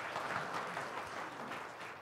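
Church congregation at a worship service claps together, a steady, dense wash of applause throughout with no voices over it.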